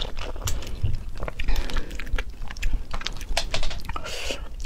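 Someone bites into juicy, sweet food and chews close to the mic, with wet crunches and slurping smacks in an uneven rhythm and no talking.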